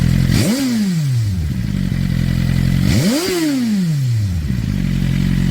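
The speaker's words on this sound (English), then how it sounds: "I'm gonna rev it a little bit. This is not a cold start, guys. The bike is already warm up." A warm Suzuki GSX-R motorcycle engine is revved twice, each blip rising sharply then falling back to a steady idle, close and loud with no talking.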